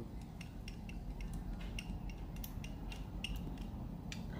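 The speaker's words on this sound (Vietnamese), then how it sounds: "khi dầu nóng lên thì mình sẽ cho cái phần à, tỏi băm nè quý vị mình cho hết vào luôn để mình phi" Minced garlic frying in hot oil and being stirred in a pan, a steady fine sizzle with scattered scraping and clinking of the utensil against the pan.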